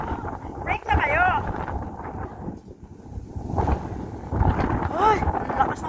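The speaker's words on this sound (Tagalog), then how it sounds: "Ay, ang lakas ng hangin." Strong gusts buffet the microphone on a Hong Kong hilltop hike, a low rumbling roar that rises and falls, with people talking through it.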